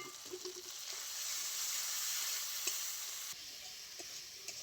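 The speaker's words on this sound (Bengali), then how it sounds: "এঁচড় আলুর মশলাটা খুব ভালো করে কষিয়ে নিতে হবে।" Spice paste of whole cumin and ground chili frying in oil for a jackfruit and potato curry, a steady close sizzle with occasional light stirring scrapes and taps, no talk.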